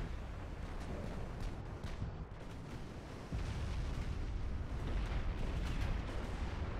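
Heavy warship guns boom repeatedly in a naval battle in Ultimate Admiral: Dreadnoughts, a dense rumbling barrage of overlapping blasts that swells louder midway and continues steadily throughout.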